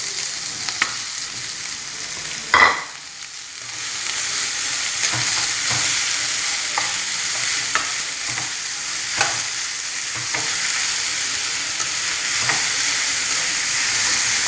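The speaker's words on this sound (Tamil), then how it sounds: "இப்போ வெங்காயம் போடுறேன்." Onions fry in a pan for paruppu adai, a steady close sizzle with scattered crackles and a sharp clatter of stirring near the start, continuing evenly throughout.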